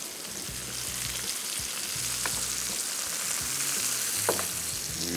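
Chicken pieces frying in a pan for crispy chicken, a steady loud sizzle and crackle with occasional pops and faint utensil clinks, close up and with no voices.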